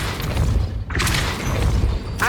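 A Depulso spell goes off in Hogwarts Legacy, a loud whooshing blast with a deep rumble underneath, followed by a second sharp burst near the end.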